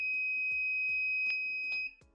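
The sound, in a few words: buzzer alarm of water tank level monitor when tank is full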